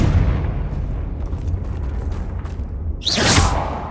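A Confringo fire spell in Hogwarts Legacy detonates in one sharp, loud burst near the end, rising out of a low, rumbling game background.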